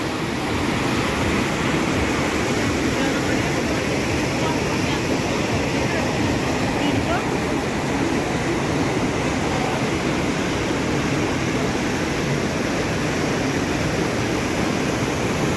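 Constant broadband rush of water deep in a gorge at a fair, heard as an even, loud roar with no breaks throughout.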